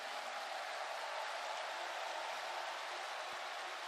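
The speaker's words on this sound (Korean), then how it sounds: "더 큰 환호와 큰 박수를 보내주시기 바랍니다" A large hall audience at a women's UN founding celebration applauds, with dense, steady clapping that blends into a continuous hiss and stays even throughout, with no voices over it.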